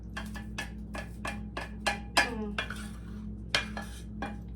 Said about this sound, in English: Get my spoon out here and help my last few pieces of mushrooms and onions get in there